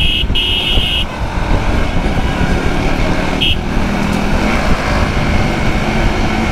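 Loud, close road traffic noise as a motorcycle rider accelerates on the road, a steady engine roar with a couple of short horn toots.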